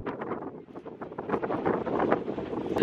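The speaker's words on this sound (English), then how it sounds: "it's really windy down here on the beach today." Strong wind on a beach buffets the microphone in uneven gusts, producing a close, rough roar that swells toward the end.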